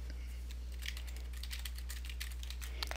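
Rapid typing on a computer keyboard in a quiet room: a steady run of light, close key clicks over a low constant hum.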